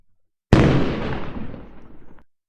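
A batch of lightbulbs bursting together on household AC power: one sudden loud bang that dissolves into a crackling, shattering tail lasting well over a second before cutting off, with no voices.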